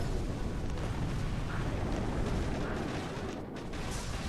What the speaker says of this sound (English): And our artillery misses because I'm a noob.